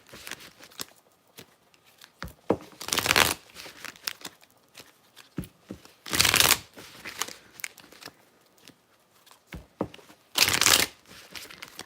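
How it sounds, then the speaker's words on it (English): A deck of oracle cards is shuffled close by, with three loud riffling bursts separated by softer taps and handling sounds. "then I'm going to pull oracle cards"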